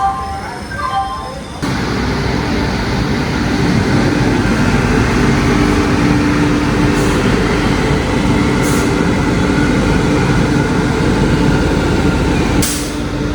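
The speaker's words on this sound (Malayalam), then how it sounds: "എറണാകുളം മംഗള ലക്ഷദ്വീപ് എക്സ്പ്രസ് 3-ാമത്തെ പ്ലാറ്റ്ഫോമിലേക്ക് എത്തിച്ചേർന്നിരിക്കുന്നു." The Mangala Lakshadweep Express rumbles steadily alongside platform 3 at Kannur railway station, a continuous low mechanical drone with faint squeals, following a brief chime-like tone at the start.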